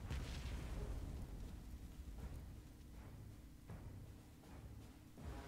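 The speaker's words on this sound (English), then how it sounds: "Attack the artillery again." Artillery attacks in the video game Panzer Corps 2, a series of muffled booms and explosions thudding at irregular intervals over a low rumbling background, faint and somewhat distant.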